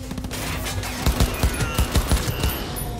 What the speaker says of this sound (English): Let's see if this rifle does anything